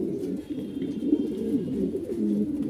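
Pigeons of fancy breeds, kept in pairs for sale, coo in low, rolling, repeated calls that overlap continuously, close and moderately loud, with no voices present.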